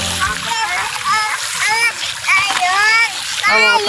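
Water from a mountain spring splashes and trickles as drinking water is fetched, a steady nearby splatter under ongoing talk with a voice.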